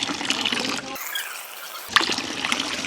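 Clean running water from a fountain splashing and trickling into a bike bottle close up, with a short gap partway before the flow resumes.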